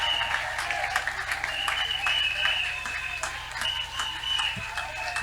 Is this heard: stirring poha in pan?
no